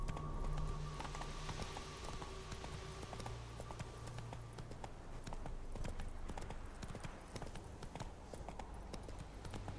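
Horse hooves clip-clop in a steady rhythmic pattern in the video game Witcher 3, moderately close amid low game ambience, with no speech.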